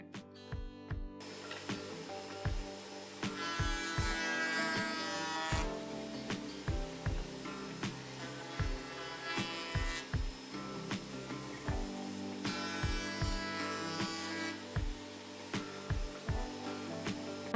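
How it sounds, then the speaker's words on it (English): A router rounds over the edges of a wooden tray for a tangram puzzle set, heard as repeated short, buzzing bursts of high whine against a steady rhythmic music backing. "routed the edges off of the tray to give a"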